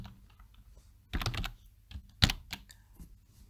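Typing on a computer keyboard while entering a filename, with a few bursts of quick clattering keystrokes and some sharper single taps, close and fairly quiet, with no talking.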